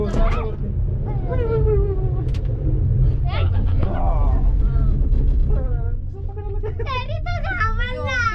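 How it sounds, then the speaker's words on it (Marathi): A gondola cable car ride in Gulmarg, with a steady, loud low rumble filling the cabin and people chatting over it throughout. "आम्ही बसलेलो आहोत गंडोलामध्ये कॅबर का कॅबल कार बोलतात"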